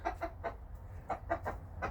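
Chickens clucking near a coop shared with ducks, a string of short close clucks in uneven bursts, with a low rumble running underneath.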